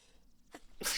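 A single sneeze, a short intake followed by a loud, sharp burst close to the microphone, with no talking.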